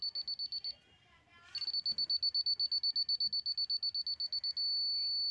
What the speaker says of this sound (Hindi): ये जो बीप है इसकी ये स्थिर हो चुकी है, अब ये बिल्कुल रेंज में है